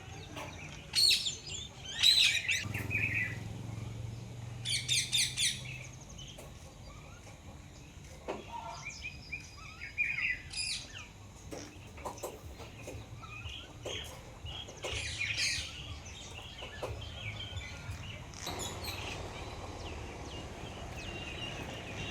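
Rose-ringed parakeets squawk and chirp in repeated harsh bursts, some close and loud, with quieter calls between them over a low background rumble.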